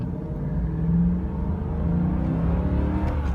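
A 1999 Jaguar XJ8 Vanden Plas V8 accelerates hard from inside the cabin, its engine note rising in pitch through two pulls with a short shift dip between them.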